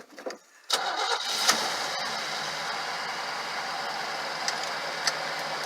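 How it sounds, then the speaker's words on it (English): A 1960 Cadillac engine cold-starts, cranking and catching, then settles into a steady, rough idle that continues with a few small revs and clicks. "so this is the old cold start."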